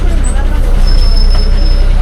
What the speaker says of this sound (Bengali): এই বাস স্টার্ট দিয়ে দিল।